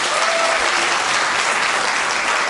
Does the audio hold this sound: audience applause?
yes